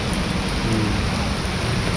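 Steady, dense rain pouring on surfaces, close and continuous with a faint low rumble beneath, no voices.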